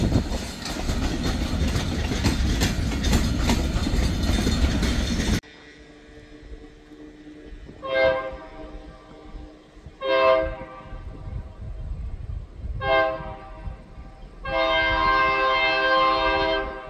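ELS freight train rolling past, a steady rumble cutting off before several separate horn blasts sound, the last one held longer, at moderate distance.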